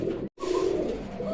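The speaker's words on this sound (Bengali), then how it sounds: "এটা হলো বিশ্বের সব থেকে ছোট প্রজাতির ঘুঘু ডায়মন্ড ডাব" A diamond dove, the world's smallest dove species, coos softly nearby in a bird market setting, a short low murmuring call broken by a brief gap.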